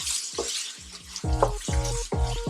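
Ground beef crumbles sizzle steadily in a pan for a homemade meat sauce, broken by a run of scraping stirs as a utensil pushes the meat around, close and fairly loud, with no voices.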